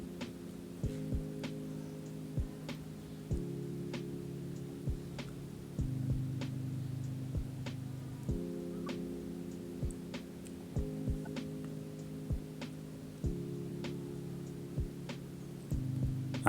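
A sewing machine backstitching a seam on a zippered women's lab coat runs in steady bursts with a low motor hum, repeating needle ticks and brief pauses between passes, quiet and without talk.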